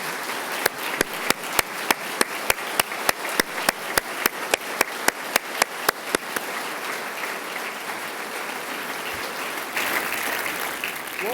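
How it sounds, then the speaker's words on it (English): Applause in the chamber during a 2025 State of the State address, with a regular rhythmic clap close by over a broad crowd clapping that later swells into a fuller wash. "Give her a round of applause."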